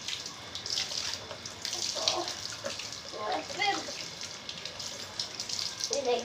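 Water running steadily from a tap or shower while Julie the dog is being bathed, a constant hissing splash that shifts as the stream moves over her, with a few faint background sounds.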